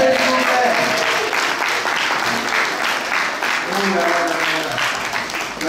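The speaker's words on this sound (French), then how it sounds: "Applaudissez, s'il vous plaît." Dense applause from an audience at a children's quiz contest, steady and continuous clapping that stays loud from start to finish.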